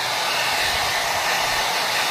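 Hair dryer blowing steadily on hair before styling bangs, a loud continuous broadband whoosh close to the mic, alone without talk.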